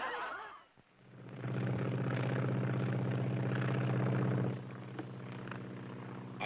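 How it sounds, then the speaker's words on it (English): A small airplane engine drones steadily in flight in a 1941 film, a loud, even hum that swells in after a quiet start, holds for about three seconds, then drops back to a low background. "we're flying there in my new plane."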